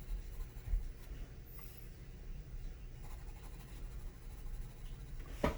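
Pencil shading on paper during a self-portrait value study gives a soft, steady scratching close by, with a few brief louder strokes and no talking.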